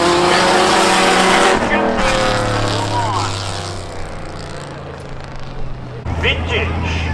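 Race cars, including a Subaru, roaring past during spectator drag racing at Seekonk Speedway, a loud engine howl with shifting pitch and tire squeal, under a fast-paced announcer's commentary over the track speakers.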